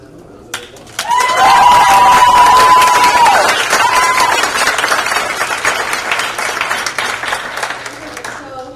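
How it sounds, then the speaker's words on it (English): A school symposium audience breaks into loud applause and cheering for student presenters, a sudden, sustained roar of clapping and whoops that slowly tapers off, with a brief voice near the start. "Please give them a round of applause."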